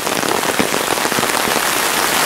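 Rain falls steadily outside the entrance of a ninja museum in Nagano, Japan, making a dense, even hiss of drops on hard surfaces with no voices.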